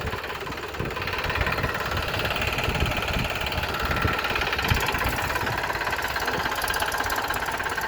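An Eicher tractor engine runs steadily and loudly while cultivating between rows of tomato plants, a continuous close rumble with a slight knocking throb.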